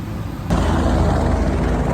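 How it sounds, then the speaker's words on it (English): Helicopter flight to Kedarnath in the Indian Himalayas, heard from inside the cabin: a loud, steady engine and rotor roar that swells suddenly after a brief quieter moment, then holds constant with no talk. "we were able to catch the 8 a.m. helicopter over to Kedarnath"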